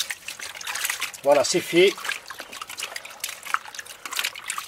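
Pumpkin seeds are rinsed by hand in rainwater without tools, a soft continuous trickle and splash beneath someone speaking briefly.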